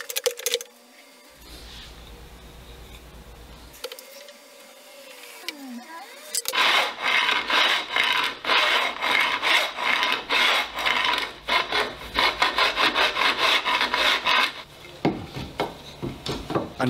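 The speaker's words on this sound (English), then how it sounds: "And finally, I'm going to finish carving the neck." A wooden guitar neck is hand-carved with a rasp or file: after a few quiet scrapes, steady close rhythmic rasping strokes run for several seconds, then stop into quiet handling noise.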